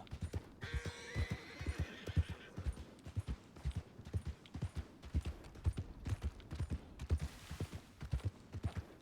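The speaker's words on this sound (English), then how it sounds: "Some people scared those horses down there." Horses in a ranch roleplay video game give a loud neigh and whinny, with repeated hoof clip-clops moving steadily throughout at close range.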